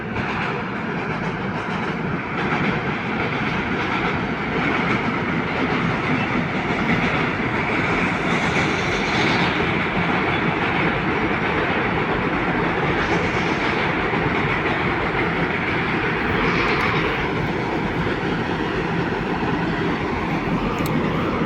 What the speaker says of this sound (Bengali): এই যে মালগাড়ি সম্ভবত এটা,